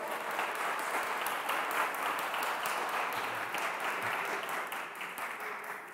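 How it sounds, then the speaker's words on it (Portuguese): A church congregation claps together at an evening worship service, a dense, sustained round of applause that carries on steadily and fades slightly near the end, with no speech over it. "Você pode dar salva de palmas ao Senhor nessa noite?"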